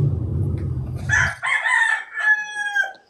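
A rooster crows loudly and close by, a single drawn-out cock-a-doodle-doo following a brief low rumble, with nothing else heard.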